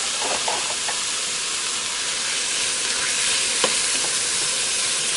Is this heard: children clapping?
no